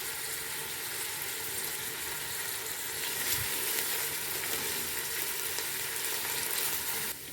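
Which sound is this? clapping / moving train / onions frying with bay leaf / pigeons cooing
onions frying with bay leaf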